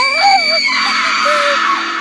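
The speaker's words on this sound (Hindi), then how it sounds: "शिवानी जोर से चिल्लाई" A woman's long, loud, wavering scream as a horror story sound effect, piercing and sustained at close range with rising and falling pitch, heard alone.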